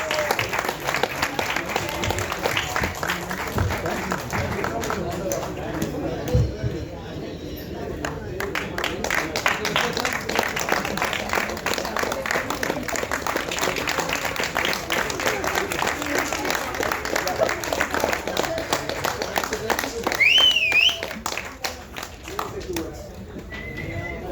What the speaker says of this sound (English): Please give a round of applause to Rajasekar, Master of Masters.